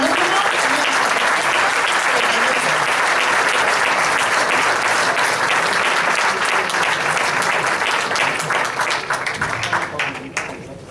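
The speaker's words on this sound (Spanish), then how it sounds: "Un aplauso para Clara Cereijo, colegiada número 78." A large crowd applauds steadily and loudly for several seconds at an engineering awards gala in Vigo, the clapping thinning out slightly near the end.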